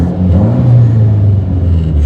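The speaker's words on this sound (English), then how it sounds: "You just give it a little bit of a rev just to see." A Mitsubishi Evo with a loud aftermarket exhaust is revved while idling, a deep heavy rumble that swells briefly and settles, heard from inside the car close up.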